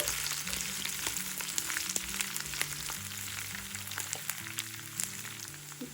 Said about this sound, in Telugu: ఇప్పుడు కట్ చేసి పెట్టుకున్న పచ్చిమిరపకాయలను వేసుకుని వేయించుకోవాలి